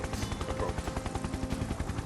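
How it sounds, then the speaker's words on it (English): Gunfire rings out across a military base as a tabletop RPG sound effect, a dense run of rapid, evenly spaced shots like a machine gun, loud and continuous with a faint rumble beneath. "you hear gunshots across the base"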